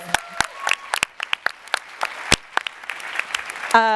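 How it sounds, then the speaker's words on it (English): Audience at a live procurement-themed quiz show event breaks into applause, sharp individual claps near and distinct in an uneven burst, ending with a short musical sting. "Let's give him a round of applause."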